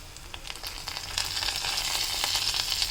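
Ingredients for kuzhi paniyaram sauté in a pan with a soft sizzle that grows louder and busier, speckled with light crackles and the occasional stir, without talk.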